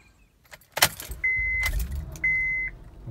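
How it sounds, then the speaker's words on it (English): A Honda Pilot engine is started after a coolant drain and refill. A sharp key-like clatter comes first, then a low idle rumble settles in, with a steady dashboard chime sounding twice. No one speaks. "Start up the car."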